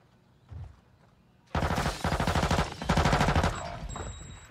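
Fully automatic gun in a video game firing long rapid bursts, loud and close, after a short quiet lead-in with a faint thump.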